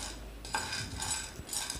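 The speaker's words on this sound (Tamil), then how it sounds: "ஒரு பேனை ஹீட் பண்ணி நம்ம வேர்க்கடலைய நல்லா ரோஸ்ட் பண்ணி எடுத்துடலாம்" Peanuts roasting in a heated pan, stirred with a utensil that scrapes and clinks against the metal in a steady, close, moderately quiet rattle with no talking.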